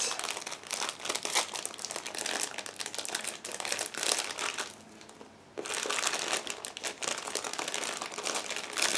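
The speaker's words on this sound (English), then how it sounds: "Transparent frame is packed into the separate plastic bag. Now just give me a second to open it." Loud, continuous crinkling and rustling up close as a plastic bag holding a transparent model kit frame is opened, with a brief quieter pause midway before the crumpling resumes.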